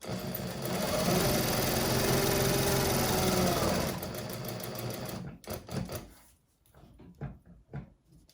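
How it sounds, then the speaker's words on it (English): A sewing machine runs at stitch length 2 along a handbag lining, a loud, close, continuous motor hum and needle chatter for about four seconds that fades and stops, followed by a few soft handling noises. "Setting my stitch length down to a 2, and then when I come to the corners I will shorten that stitch length"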